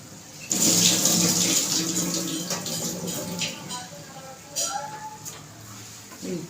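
Soaked rice is lifted out of its water into a pressure cooker, producing a burst of sloshing and dripping water followed by softer trickles and a couple of small splashes nearby.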